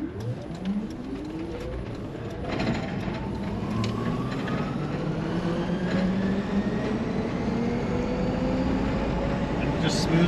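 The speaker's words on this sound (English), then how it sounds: "Smoothly accelerates, no shifting." Toyota Land Cruiser converted to Nissan Leaf electric drive accelerating smoothly with no gear shifts, a rising electric motor whine climbing steadily over constant road and cabin noise, close and continuous throughout.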